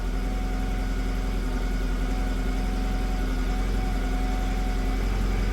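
A Citroen 2CV's small engine idles steadily on a lift as the car is raised, a close, even, low putter holding through without any break and no voices over it.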